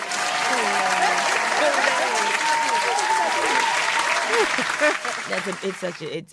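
Studio audience applause on a talk show, loud, dense clapping with cheering and whooping voices riding over it, tapering off near the end as individual shouts stand out.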